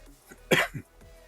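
A single short cough, close and fairly loud, followed by a softer second burst, with quiet room noise around it.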